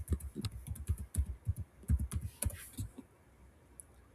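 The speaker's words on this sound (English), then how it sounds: "So I'll just type a name" Rapid clicking keystrokes on a computer keyboard as a name is typed into a medical form, fairly close and crisp in quick uneven bursts, trailing off into quiet near the end.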